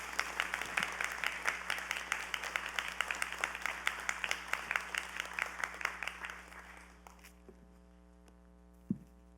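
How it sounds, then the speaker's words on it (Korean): A congregation at a New Year special dawn prayer service in a church bursts into dense, sustained clapping that thins into scattered claps and fades out after about seven seconds. "우리 박수로 환영해 주시면 좋겠습니다"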